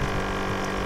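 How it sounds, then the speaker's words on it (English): An aerator pump bubbles oxygen into water holding live fish for transport, a steady, dense, continuous bubbling and gurgling hum at close range, no talking. "when you turn this thing on, which you're going to hear it in a second, it starts bubbling into the water."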